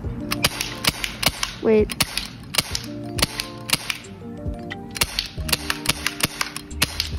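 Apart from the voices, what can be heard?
Glock 19 BB gun firing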